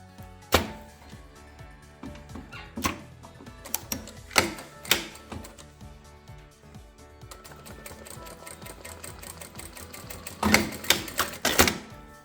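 A sewing machine stitches two fabric strips together for a baby blanket, starting with separate sharp mechanical clacks and settling into a quick, continuous run of rhythmic stitching that ends in a few louder knocks.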